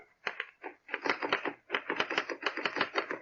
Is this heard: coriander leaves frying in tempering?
no